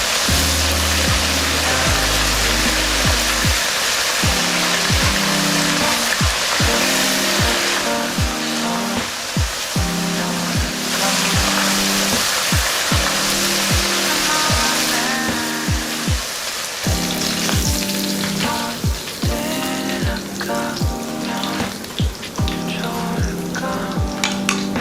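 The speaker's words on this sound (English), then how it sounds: "while I'm frying the rest of the shrimp" Shrimp frying in hot oil give a constant crackling sizzle that runs the whole time beneath loud rhythmic background music.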